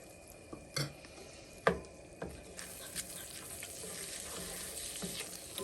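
A flour roux fries and is stirred in a pan for beef tips and noodles gravy, a steady close sizzle with a few sharp scrapes and clinks of the spoon against the pan, no talking.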